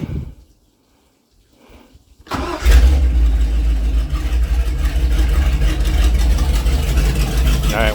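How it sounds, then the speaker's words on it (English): A Mercruiser 454 7.4L big-block boat engine with a Bravo 1 outdrive cranks over and fires up, then settles into a loud, steady, rumbling idle after a brief quiet moment. "We're going to go ahead and fire it up, let it get warmed up to temperature for a few minutes"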